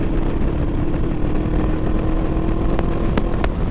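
Motorcycle riding at speed on a road in Alabama, a steady close engine drone with wind rush throughout and a few brief sharp clicks near the end.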